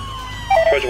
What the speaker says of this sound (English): Ambulance on its way.